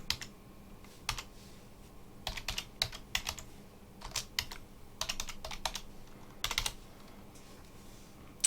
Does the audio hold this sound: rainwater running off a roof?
no